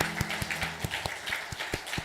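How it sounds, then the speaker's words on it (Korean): A church congregation claps in congratulation, with a few distinct nearby hand claps landing in an uneven rhythm over a softer background of scattered clapping, fairly quiet overall. "다시 한번 축하의 박수 하겠습니다."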